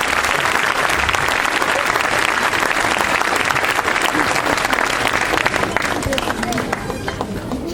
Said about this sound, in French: Applaudissements encore une fois pour Cyril, notre délégué.